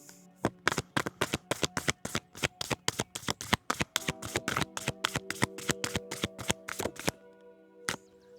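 Deck of cards riffle-shuffled and bridged repeatedly at close range, a rapid run of crisp flutters and snaps for about seven seconds, then one final tap after a short pause, with soft background music.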